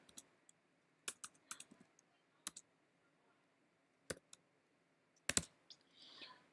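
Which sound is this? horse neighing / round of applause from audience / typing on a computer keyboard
typing on a computer keyboard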